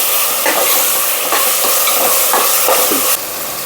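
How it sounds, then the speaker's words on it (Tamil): Ground ginger, garlic and onion paste sautéing for a country chicken curry, a loud continuous sizzle broken by rhythmic scraping stirs in the pan. "அதையும் போட்டு நல்லா வதக்கி விட்டுடலாம்."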